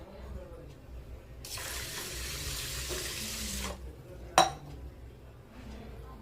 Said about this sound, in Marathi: आता आपण ह्यात पाणी टाकूया